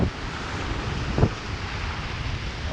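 Ocean surf at dawn on a South Padre Island beach, a steady broad wash of waves with heavy wind buffeting the microphone and one brief louder splash midway.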